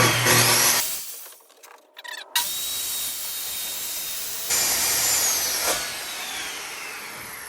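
A powerful power saw cuts through aluminum extrusion. Loud, harsh whining noise runs on and off across the clip with a brief pause and then a steady cut, close to the listener, with no talking.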